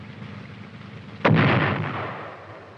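An M551 Sheridan light tank fires a guided missile: one sudden, loud, booming blast with a sharp onset, then a rushing roar that slowly fades, heard over a low background rumble.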